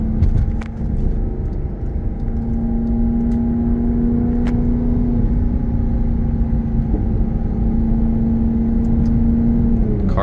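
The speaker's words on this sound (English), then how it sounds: "Just hear those downshifts are amazing." A 2013 Maserati GranTurismo Sport in manual mode gives a steady, close engine drone with a strong low hum, heard from inside the car for about ten seconds at a fairly even loudness and with no talking.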